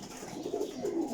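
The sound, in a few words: breeder pigeons cooing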